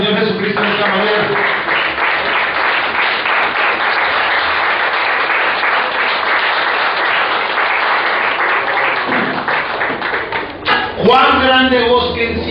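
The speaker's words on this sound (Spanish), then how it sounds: "Demos un aplauso al Señor Jesucristo en esta manera" A church congregation gives loud, sustained applause to the Lord Jesus Christ, a dense wash of clapping for about ten seconds, then a voice speaks over the fading claps.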